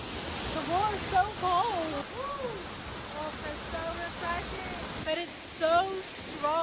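Steady broadband rush of falling water fills the clip, with excited voices and whoops talking over it throughout.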